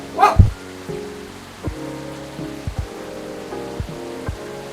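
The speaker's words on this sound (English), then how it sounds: "Sorry, the dog used to be barking." A dog barks once loudly up close, followed by a few softer, scattered yips and thumps over a quiet background of light rain.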